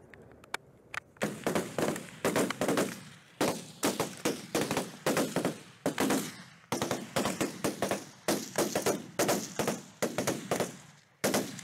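Rifles fire in rapid, loud, close volleys, sharp cracks overlapping in sustained bursts with brief gaps between strings of shots.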